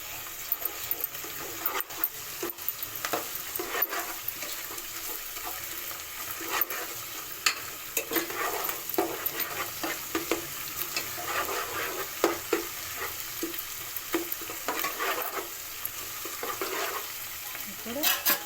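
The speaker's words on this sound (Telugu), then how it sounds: "తర్వాత అల్లం వెల్లుల్లి పేస్ట్ వేసి పచ్చి వాసన పోయే వరకు ఫ్రై చేసుకోవాలి." Curry leaves and ginger garlic paste frying in a pan, a continuous soft sizzle broken by scraping stir strokes, close and moderately quiet, with no one talking.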